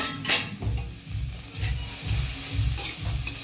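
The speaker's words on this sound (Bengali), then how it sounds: "এবার ঢাকাটা খুলে আবারও নেড়ে চেড়ে দেবো" Cabbage fries in a pan as a utensil stirs it in a steady rhythm of about six regular scraping strokes over a constant close sizzle, moderately quiet with no voices.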